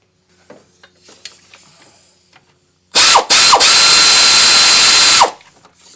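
A power ratchet runs the alternator belt tensioner bolt down on a 1997 Toyota Camry V6, with a loud continuous whirring burst of about two seconds, briefly interrupted, after quiet clicks of handling.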